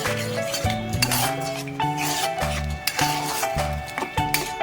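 Spice masala with a splash of water being stirred and fried in a pan, heard as close metallic scraping and clinking of a spoon against the pan over a faint sizzle, with no talking.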